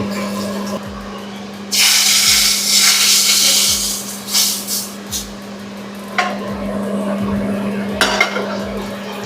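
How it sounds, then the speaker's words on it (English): Metal spoon scraping and clinking against a pot while curry ingredients are stirred constantly, with a steady low hum and bursts of hissing from the stove, in a home kitchen preparing an Eid special Indian-Pakistani curry. "Adding the ingredients. And doing constant mixing."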